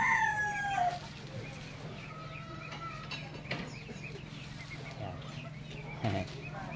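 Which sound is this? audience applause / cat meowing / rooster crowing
rooster crowing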